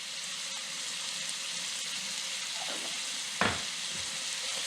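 Onions sautéing in a pan with garlic, kosher salt and black pepper, a steady close hiss of frying with a single sharp clack of a utensil partway through.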